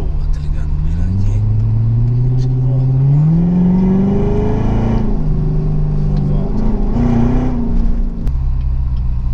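A Corvette engine revs and accelerates up close from inside the car, its pitch climbing in rising sweeps before dropping back, with a steady loud rumble throughout.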